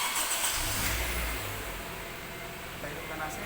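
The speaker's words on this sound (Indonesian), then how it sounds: "Kita hidupkan mesin." A car's engine starts and settles into a low idle inside a vehicle being prepared for air-conditioning gas refill, a short rumbling rise in the first half that then fades back to a quiet steady hum.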